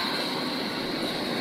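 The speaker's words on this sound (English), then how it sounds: "Next, let's test the air blower." A steady, even whooshing of the air blower in a bubble washing machine running continuously, with a constant hiss and no voices.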